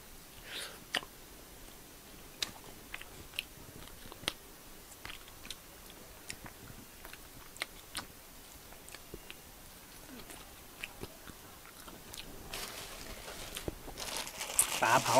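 Close-up mouth sounds of someone eating grilled fish with Thai sticky rice, with soft irregular chewing and small crunchy bites throughout, and a brief rustle near the end.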